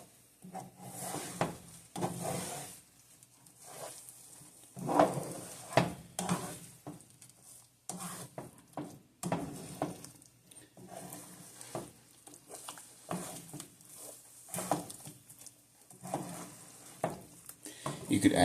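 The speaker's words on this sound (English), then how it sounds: "Just going to move the egg around." A spatula scrapes and pushes scrambled eggs around a hot pan in repeated, uneven strokes. Each stroke brings a soft sizzle, and a voice talks now and then between them.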